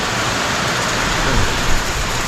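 Heavy rain pours down steadily around an outdoor rural spot in Calaca, a dense, continuous broadband wash with a few slightly louder surges, no voices.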